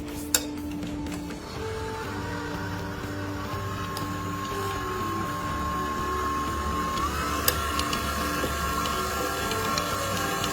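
An electric mixer whirs steadily through eggs and peanut butter for dog cookie dough, a continuous mechanical hum with a faint whine and a couple of small clicks, fairly quiet and without talk.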